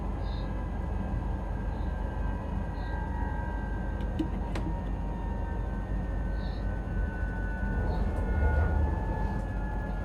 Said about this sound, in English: Alright, let's let the train slow down here, down to 60.